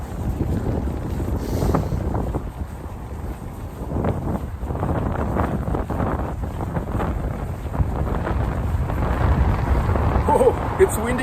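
Strong wind on a riverside embankment roars and buffets the microphone continuously, a loud low rumble with gusty swells that never lets up.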